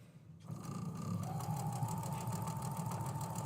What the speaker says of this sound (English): I'm going to go ahead and sew up my pieces real quick